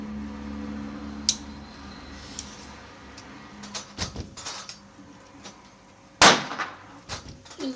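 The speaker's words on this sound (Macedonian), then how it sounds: "Еве значи палачи и петарда." A firecracker thrown from in front of a window goes off in one sharp, loud bang late in the clip, preceded by a smaller click and quieter outdoor background noise.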